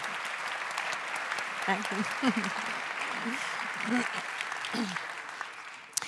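Conference audience at the Open Innovation Kongress Baden-Württemberg 2023 applauds steadily for the whole stretch, a dense wash of clapping with a man briefly voicing thanks over it.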